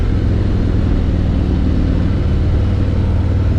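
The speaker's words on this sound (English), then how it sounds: "I do love the Milwaukee 8 engine." The Milwaukee 8 engine of a 2021 Harley-Davidson Road Glide Limited drones loud and steady while riding, a continuous low rumble mixed with wind, with no talk.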